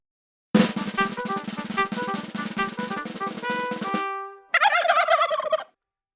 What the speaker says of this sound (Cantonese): 美國白宮嘅火雞咕咕叫